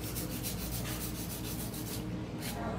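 A hand file rasps back and forth across a fingernail during a Halloween nail design, a quick regular series of close, soft scratching strokes that stops briefly near the end, with no speech.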